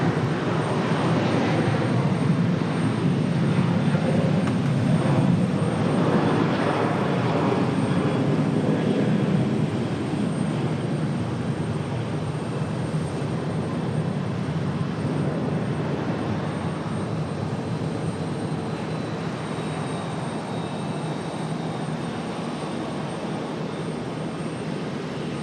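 A departing airliner at Charlotte airport gives a loud, continuous jet engine roar that fills the whole stretch and eases off slightly as it moves away, with no talking.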